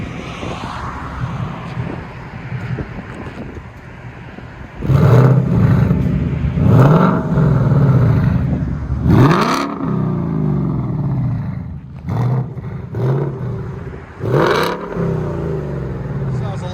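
A car with an active exhaust revs hard in several loud bursts, rising and falling, with a throaty exhaust roar between quieter idle stretches.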